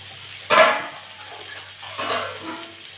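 Water is poured into a pot of thin fish and cauliflower curry, two short splashing bursts a moment apart, close and moderately loud against a quiet kitchen.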